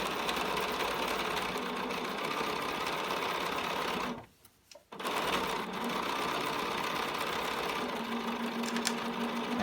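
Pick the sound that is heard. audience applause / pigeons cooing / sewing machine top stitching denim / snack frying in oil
sewing machine top stitching denim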